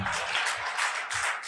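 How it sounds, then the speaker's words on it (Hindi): A live audience at a motivational talk claps together, a dense, steady burst of many hands held at an even level throughout, with no voices over it. "अब आपने ताली क्यों बजाई वो मुझे बताए।"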